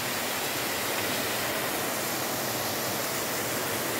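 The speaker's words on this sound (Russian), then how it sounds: "И дальше будут спускаться водопады. Один за одним." Several waterfalls cascading one after another down a mountain gorge in winter near Lazarevskoye, a steady, loud, continuous roar of rushing water with no voices.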